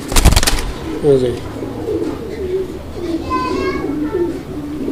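Racer pigeons coo softly in a low, throaty rhythm, repeated several times, after a brief loud rattle at the start; faint voices murmur in the background.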